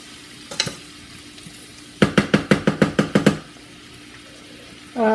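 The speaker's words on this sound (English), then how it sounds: "Now we're gonna add the sofrito" Sofrito hitting a hot pan, a series of about eight sharp sizzling bursts in quick rhythm after a couple of earlier crackles, close and loud, then a fresh hiss at the end.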